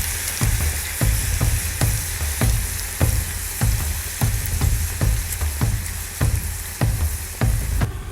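Leeks and turnips sauté loudly in a pan over a steady sizzle, with sharp regular stirring scrapes about every half second, close and alone without voices.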